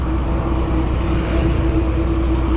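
Large transit goods trucks and petroleum tankers passing on a road near Kisumu, a loud, dense roar of heavy engines and tyre noise with a steady low drone, close and continuous.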